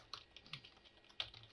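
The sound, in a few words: typing on a computer keyboard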